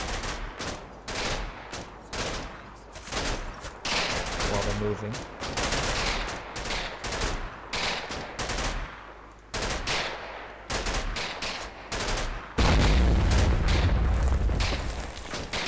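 Sustained machine-gun bursts and rattling gunfire pour into buildings in the WWII Normandy wargame Combat Mission, dense and loud throughout with a heavy boom near the end, and someone talks briefly over it.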